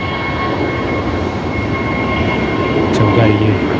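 Jetstar Airbus A321neo rolling on runway 01 right at Brisbane Airport, a constant engine rumble and whine with faint steady tones, swelling slightly toward the end.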